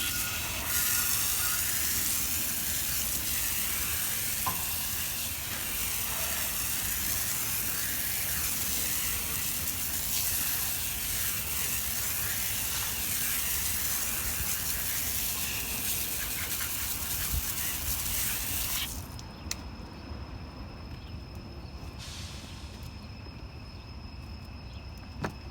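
Water sprayed to rinse a dirty Maserati wheel rim, a steady loud hiss that runs continuously, then cuts off abruptly near the end, leaving quieter background sound.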